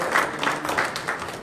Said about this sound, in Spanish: A Dios ese aplauso, porque Él lo merece.